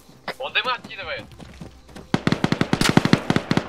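Bursts of rapid automatic gunfire in ArmA 3, a quick string of sharp shots following a voice speaking briefly in Russian.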